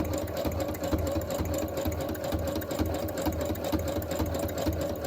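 A Brother sewing machine running continuously, a steady close mechanical whir and rapid needle chatter with an even, unbroken rhythm throughout.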